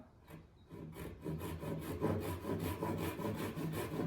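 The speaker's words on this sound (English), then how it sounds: "then I'll take my crosscut saw," A hand crosscut saw cuts straight across a piece of wood for a carved joinery curve, its steady back-and-forth rasping strokes close and fairly loud, repeating evenly throughout with no talking.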